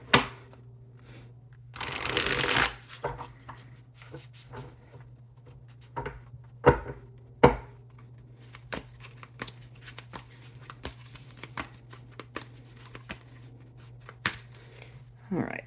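A deck of tarot cards is riffled and shuffled close up, with one loud burst of rapid flutter followed by scattered snaps, slaps and light taps over a steady low hum.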